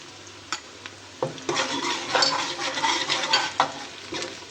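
Whole spices, including black pepper, star anise, black cardamom, cumin, curry leaves and cinnamon, sizzling in desi ghee while a spoon stirs the pan. There is a steady frying hiss with several clanking scrapes of the utensil against the pot, close up and with no talking.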